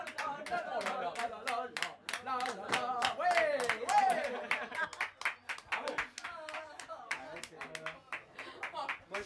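Several people clap their hands in uneven bursts of sharp slaps, with voices talking between and over the claps in a small indoor gathering.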